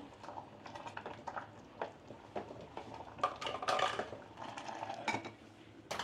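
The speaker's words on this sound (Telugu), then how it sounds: "సో ఇప్పుడు నేను దీంట్లో క్యారెట్ వేస్తున్నాను." Carrot pieces dropped into Maggi noodles cooking in a multi-cook kettle, heard as scattered close clinks, taps and scraping against the pot, with a busier clatter midway and no talking.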